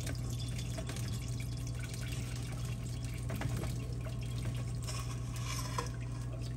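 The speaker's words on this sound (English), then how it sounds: "we're getting ready now to drain that ground meat into a colander" Fat drains from cooked ground beef into a colander, a continuous soft trickling and dripping of liquid heard up close over a steady low hum, with no talking.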